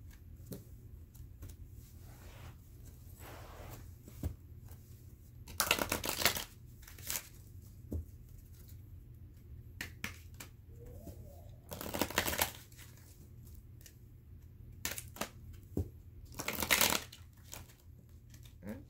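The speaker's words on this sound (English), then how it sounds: "we're going to go ahead and then pull out a Purpose of Life card for her" Tarot cards being shuffled and drawn during a reading, with soft papery riffles and slides rising in three louder bursts over a quiet steady background.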